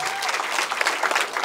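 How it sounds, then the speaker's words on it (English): Comedy club audience at a live stand-up show in Dallas applauding steadily, a dense, close wash of many hands clapping without a break. "Clap for that, brother."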